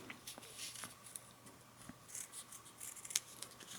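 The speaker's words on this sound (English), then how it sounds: "You don't have to get like fancy pants tape cutting scissors." Quiet, close scissor snips cutting kinesio tape, a few sharp cuts spaced unevenly against a soft background hiss.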